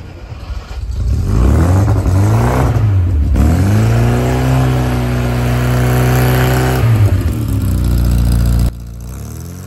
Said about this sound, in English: my car sounds much better than yours